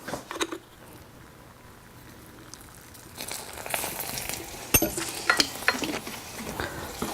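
A spoon stirs a teaspoon each of butter and vanilla into hot peanut brittle syrup in a pot, with soft scraping and bubbling that grows louder and more textured midway through, a few sharp clinks against the pan, and no talking.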